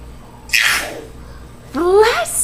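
A boy makes two exaggerated fake sneezes, each a sharp, breathy burst, the second louder and more voiced, separated by a short quiet gap.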